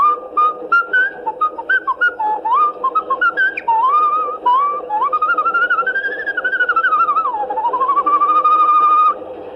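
Someone whistles the tune Yankee Doodle, a clear, close melodic whistle gliding through short notes and then longer sustained phrases, heard alone without talk.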